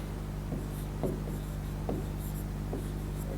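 Pen writing a word into the first box of a worksheet during a Turkish grammar lesson, four short scratchy strokes spaced about every half second, close and quiet over a steady low hum.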